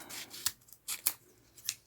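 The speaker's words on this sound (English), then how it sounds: "we're just going to cut the zip shorter" Scissors snip through a fabric zipper to shorten it, three crisp separate cuts with quiet rustling between, close and clear with no talking.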